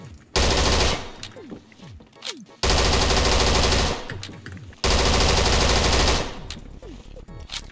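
Suppressed K2 rifle fire in the Phantom Forces video game, heard as three sustained automatic bursts of roughly two seconds each, loud and close, separated by brief pauses filled with clicks and shell-like clatter.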